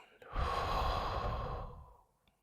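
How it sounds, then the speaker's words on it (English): A single deep, slow exhalation during a guided relaxation breathing exercise, a soft breathy rush that swells, holds steady and fades out over about two seconds, heard alone and close. "and a deep breath out."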